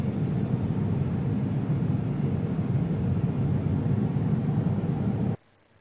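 Inside an airliner cruising at about 30,000 feet, a steady broadband roar of cabin and engine noise fills the space, constant and loud, then cuts off abruptly near the end.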